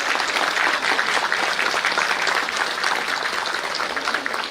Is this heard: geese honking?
no